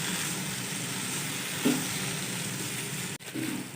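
Grated carrots for halwa fry in oil with a steady, broadband sizzle, quiet and continuous, broken by a brief stirring scrape near the end.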